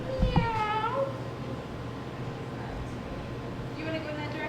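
A person imitates a cat's meow with a short, rising-falling vocal cry near the start, followed by a quieter second meow-like call near the end over low background noise.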